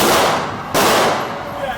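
A single loud 9mm shot from a CZ 75D PCR pistol cracks out close by, trailing a long decaying echo.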